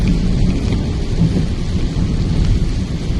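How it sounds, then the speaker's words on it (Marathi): Heavy rain pours down in Kasu, a loud dense roar of rainfall with deep thunder rumbling through it, continuous and enveloping, with no one speaking. "खूप पाऊस चालू आहे इथे कासूला"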